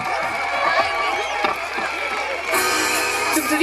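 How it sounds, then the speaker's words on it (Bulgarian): A large outdoor concert crowd applauds and cheers for the Ballet Nova dance troupe at a Coca-Cola/The Voice tour stop in Varna, with a steady dense roar of clapping that swells louder near the end. "Силни аплодисменти за Балет Нова!"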